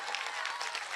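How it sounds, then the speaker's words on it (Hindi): Devotees applaud at a Ram Katha religious discourse, a short burst of lively, dense clapping from a crowd with rapid uneven pulses, fairly loud and with no talking over it. "अब जोरदार तालियों से अभिनंदन करिए"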